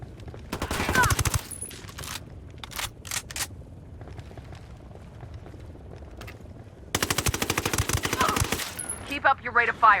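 Heavy automatic gunfire in the Ghost Recon Wildlands video game, with two long sustained bursts and a few short shots between them, loud and close, with voices briefly heard amid the shooting.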